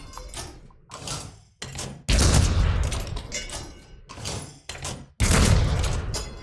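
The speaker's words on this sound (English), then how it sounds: "So empty casings out, round up, in, breech close, fire." A breech-loading gun fires several loud, heavy booms, one after another, with metallic clunks of the breech opening and closing between shots as casings come out and rounds go in.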